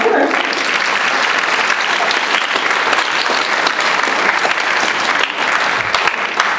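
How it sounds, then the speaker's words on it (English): Applause from the audience at a school choir gathering: a dense, sustained crowd clapping that stays loud and even from start to finish. "make a round of applause"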